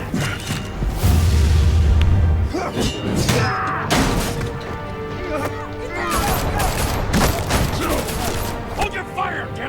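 Gunfire and crashing in Batman: The Telltale Series, loud shots and smashes with heavy thuds, dense and close, mixed with voices and action clatter.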